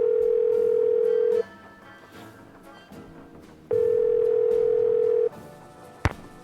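A telephone dial tone in the Nancy Drew: Legend of the Crystal Skull video game, a steady pure tone sounding twice with a quiet gap between, followed by a brief click.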